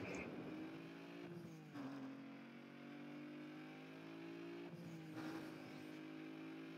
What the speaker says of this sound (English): We're going to drive this one for another minute.